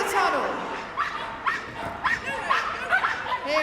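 Small dogs barking at an agility team competition at Crufts, several sharp yips and barks in a burst-like rhythm over crowd noise, with a commentator talking throughout.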